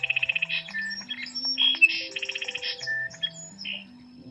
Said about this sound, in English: we play a callback and then see what kind of birds call back to the recording